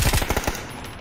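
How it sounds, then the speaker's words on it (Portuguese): Rapid bursts of sniper rifle fire in the battle royale game PUBG on the Erangel map, a quick run of loud close shots trailing into a short ringing decay, with no talk. "Tiro de sniper, isso aí."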